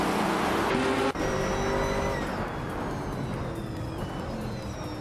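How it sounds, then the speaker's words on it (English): A 1969 Lola T260 Can-Am race car roars loudly and continuously at close range, with a sharp shift in engine note about a second in, then a sustained high-revving drone as it races on a track. "starting on pole is a 1969 Lola T260 in the Can-Am Nuts class"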